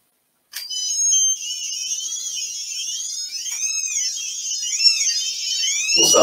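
Makeblock Neuron speaker module driven by a gyroscope emits a continuous electronic tone that starts abruptly and warbles and shifts in pitch as the sensor is tilted, steady and fairly loud, ending in a thump.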